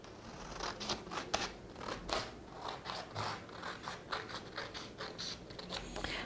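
Scissors snip repeatedly through folded paper, a run of quick crisp cuts with short scraping slides between them, close and fairly quiet, with no talking.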